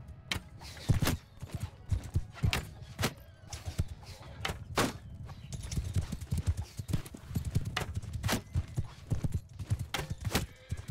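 Armored horses gallop in the medieval battle game Bannerlord, their hooves hammering a fast, irregular clip-clop close by, with occasional whinnies over a rumbling battle din.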